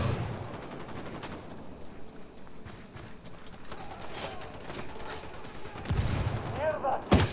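Gunfire in the Ghost Recon Wildlands shooter comes as scattered shots and bursts over a noisy combat backdrop, with heavier cracks near the end.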